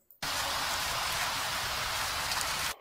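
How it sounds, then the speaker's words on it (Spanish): Steady, dense rainfall hisses evenly, starting abruptly and cutting off at the end, with no voices. "Sinceramente, eso es lluvia."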